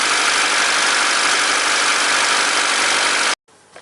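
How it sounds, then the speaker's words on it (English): A 1992–1995 Honda Civic engine runs at idle, a loud, steady, even drone heard close up that stops abruptly, leaving a few faint clicks. "Okay, now motor is running, and we can go to check this below area"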